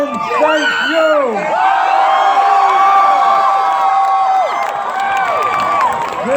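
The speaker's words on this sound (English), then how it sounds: "a great crowd. It is a loud crowd." A loud rally crowd in Austin, Texas cheers, whoops and shouts continuously, a dense roar of many voices with rising yells carrying throughout.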